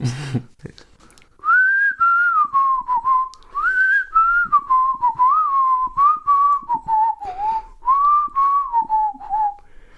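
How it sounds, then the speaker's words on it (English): Someone whistles a clear, wavering melody alone and close up, in phrases with short pauses between them. "That was good whistling"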